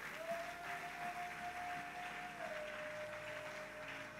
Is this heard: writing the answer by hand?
no